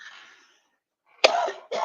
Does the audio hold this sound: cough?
yes